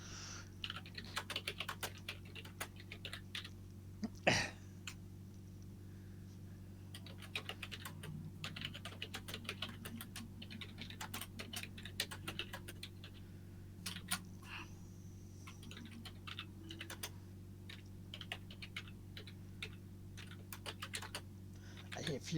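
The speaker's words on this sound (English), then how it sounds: "I hear furious typing." Rapid, furious typing on a computer keyboard, a dense run of light clicking keystrokes heard faintly in the background beneath a low steady hum.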